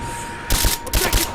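A short burst of rapid gunfire from Rise of the Tomb Raider cracks out after a brief quiet lead-in, several close, loud shots in quick succession.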